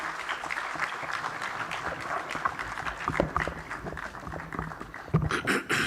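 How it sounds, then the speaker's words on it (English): An audience at a general assembly applauds, a sustained patter of clapping from a large indoor crowd that swells louder near the end. "A hand of applause, please."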